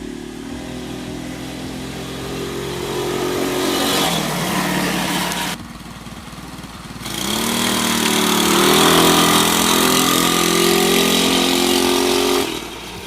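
A cheap go-kart's small gasoline engine runs loud and close, droning and revving, then drops briefly to a lower idle before rising again into a sustained buzzing roar.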